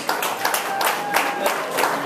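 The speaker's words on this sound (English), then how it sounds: "round of applause" A comedy club audience applauds a stand-up comedian, a steady wash of many hands clapping at moderate volume that carries evenly through the whole stretch without pause.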